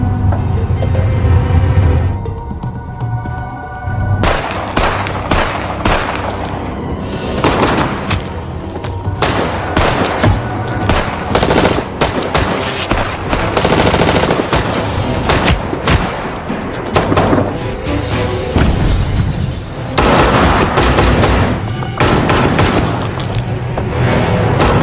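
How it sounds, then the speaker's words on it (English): A brutal film gunfight with rapid machine gun fire, repeated gunshot bursts and shattering impacts, loud and dense throughout with little pause. "In a brutal gunfight, many are killed."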